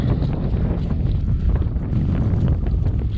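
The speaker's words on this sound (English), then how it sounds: "It's a bit windy." Outdoor wind buffets the microphone, a steady loud low rumble with gusty fluctuations that lasts throughout.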